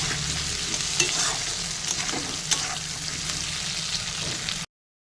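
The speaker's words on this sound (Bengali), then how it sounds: "পেঁয়াজগুলো দিয়ে দিয়েছি, পেঁয়াজগুলো দিয়ে ভাজা করব" Sliced onions frying in a pan for an egg curry, a constant loud sizzle with stirring scrapes and a couple of sharp clinks, ending abruptly.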